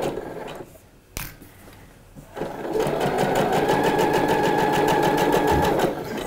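A domestic sewing machine stitches a seam in washed linen for a pair of shorts, starting after a few handling knocks and then running in one fast, steady, close mechanical rattle for several seconds before stopping.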